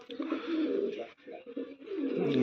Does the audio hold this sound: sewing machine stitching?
no